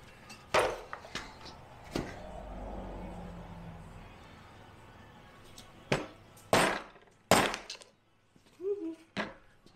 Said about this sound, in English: Dead blow will work just fine.